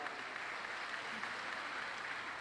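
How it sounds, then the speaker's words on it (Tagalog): A congregation gives a steady, even round of applause to God during a talk at an El Shaddai anniversary church gathering, heard moderately faint as a dense, unbroken patter of many hands. "Isa munang malakas na palakpak sa Diyos na buhay."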